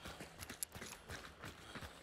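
A horse in the Hunt: Showdown video game, with repeated soft hoof clip-clops in an irregular walking rhythm. The sound is faint and fairly distant, and there is no speech.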